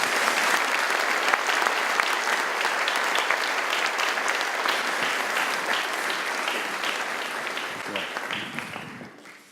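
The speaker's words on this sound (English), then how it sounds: "Applause," An audience at a university's opening of the academic year greets the rector with sustained, dense applause that fills the hall and fades slightly at the end.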